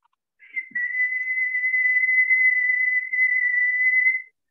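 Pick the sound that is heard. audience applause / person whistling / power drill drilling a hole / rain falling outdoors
person whistling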